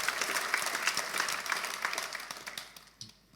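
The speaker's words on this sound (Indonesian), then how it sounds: "sekarang boleh tepuk tangan untuk perubahanmu" A church congregation applauds during a sermon. Many hands clap in a steady, crowded burst that tapers off toward the end.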